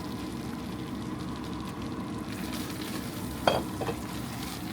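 Spices sizzle in a hot tadka of oil for palak chana masala, a steady close frying hiss with stirring and a brief scrape of a spoon against the pan near the end.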